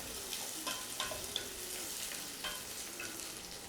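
Garlic cloves, cut in half, fry until golden in a pan with a soft, steady sizzle and faint intermittent stirring scrapes, fairly quiet and without speech.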